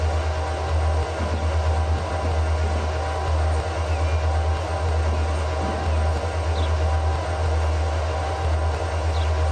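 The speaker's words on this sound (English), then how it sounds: "we've got a stone train coming in" Freight trains roll into a station platform in the Transport Fever video game, a steady low diesel drone with faint rail rumble and occasional soft clanks, continuous and fairly quiet.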